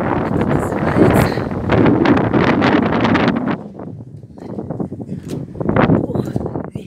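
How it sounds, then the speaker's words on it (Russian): Gusty wind blows outdoors on the grounds of a large manor-estate building in Kaliningrad region, buffeting the microphone with loud, rumbling broadband noise that eases briefly midway before swelling again. "Ох, ветер."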